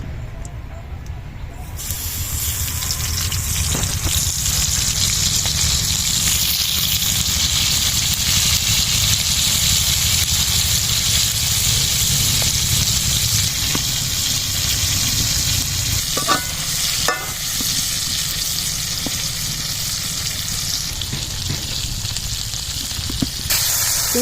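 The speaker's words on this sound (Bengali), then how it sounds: "এই তেলেই আমি চিংড়ি মাছটা ভেজে নিচ্ছি।" Shrimp fry in hot oil in a home kitchen, giving a steady, loud hissing sizzle that builds in the first seconds and continues for a long stretch, with occasional clinks of stirring.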